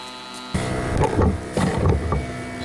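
A Viair onboard air compressor on a van starts up and begins filling its tank, kicking in with a buzzing, rhythmic chugging pulse that stays close and loud after a quieter hum.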